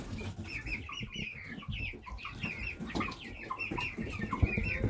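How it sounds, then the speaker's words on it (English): Several farm roosters and chickens call and cluck together in a pen, their cries overlapping at moderate distance in a steady, busy stream with no speech. "they were in here crowing"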